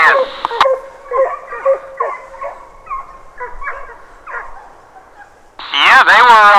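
Hunting hounds bay and yelp in a rapid, overlapping chorus while trailing deer in the woods, moderately distant, followed by a loud nearby burst of whining and crackle at the end.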